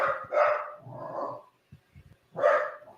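A pet dog, a female, barks in several bursts in a home podcast setting: a quick pair of barks, a lower grumbling stretch, a pause, then another loud bark, all close to the microphone with no talking.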